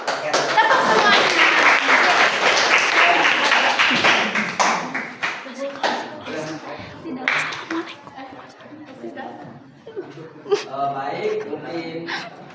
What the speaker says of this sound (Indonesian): Tepuk semuanya.